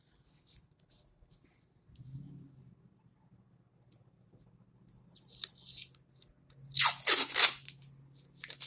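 Sticky tape pulled and torn into short strips for a plastic spoon and Easter egg maraca: a faint crinkle early, then sharp ripping bursts growing louder near the end, close up.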